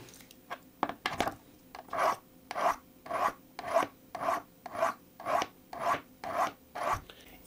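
A knife blade is sharpened with steady, rhythmic rasping strokes, about a dozen evenly spaced scrapes close up with no talking.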